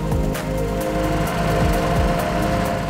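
Tractor-mounted three-point cable winch on a John Deere tractor during forestry work, engine running steadily and loud with a constant droning hum and mechanical vibration, no voices.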